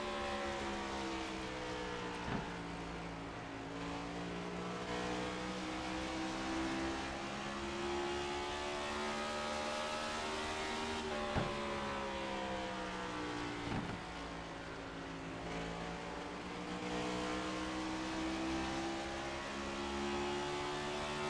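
A race car engine roars from onboard car number 42 at Iowa Speedway, its pitch climbing through the gears and dropping sharply as the throttle lifts, then surging again.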